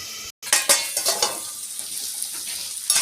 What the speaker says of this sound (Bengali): এই রে, কপি ভাজা হয়ে গেল?